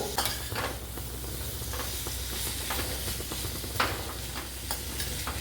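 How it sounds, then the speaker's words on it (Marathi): Tomatoes sauté with masala in a pan for a spiced Maharashtrian rice dish, giving a steady close sizzle with frequent scraping stir strokes and soft utensil clicks throughout. "आता आपण यामध्ये टोमॅटो टाकून घेऊया टोमॅटो आपण छान परतून घेऊ"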